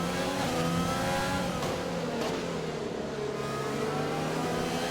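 Several racing cars roar past on a Holland circuit in a racing video game, engines droning steadily at close range with revving rises and falls throughout, no talking.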